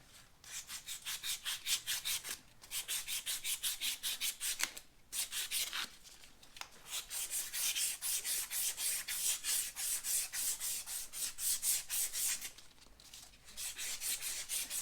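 Emery cloth scrubs rust off the shifter shaft of a Harley-Davidson Sportster, a quick rhythmic back-and-forth rasping in close bursts separated by short pauses.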